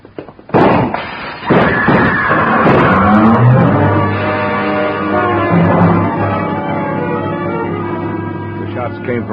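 A car in a radio drama pulls up double-parked outside a lobby, its engine droning steadily at close range after a couple of sharp opening bangs, with no one speaking over it.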